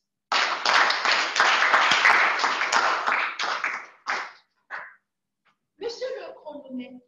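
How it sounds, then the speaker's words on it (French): Small Toastmasters club audience clapping for their president, a few seconds of close applause that breaks off, followed by scattered claps and a voice starting to speak. "que je vous prie d'applaudir"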